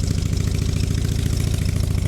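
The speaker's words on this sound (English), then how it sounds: "That actually sounds like it's got an exhaust on it." A project motorcycle with a newly finished exhaust idles steadily, its engine making a loud, even low-pitched throb with fast regular pulses and no talk over it.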